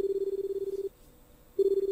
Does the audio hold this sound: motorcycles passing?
no